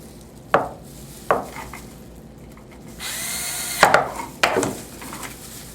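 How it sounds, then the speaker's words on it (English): Screws are snugged back down on a DLP lamp assembly for an XL2400 unit: a few sharp clicks and scrapes spaced apart, with a short steady whirring burst in the middle, close and moderately loud. "Take the screws that you had removed earlier and just snug them down."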